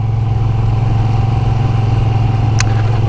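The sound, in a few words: Moto Guzzi V7 Sport motorcycle engine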